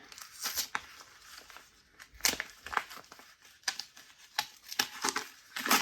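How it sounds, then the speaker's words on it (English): Plastic bag crinkles and rustles close by as a package holding a Christmas ornament is opened, coming in irregular bursts of crackling with short quiet gaps between them. "Sorry about the rustling."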